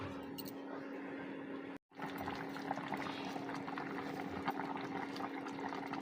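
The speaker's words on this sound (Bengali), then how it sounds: "এরপর দিয়ে দিব পরিমাণ মতো জল, একটু ঢাকা দিয়ে দিব।" Water is poured into cooked, spice-fried meat in a pot, a steady rushing pour with a brief silent break before it resumes, with no voices.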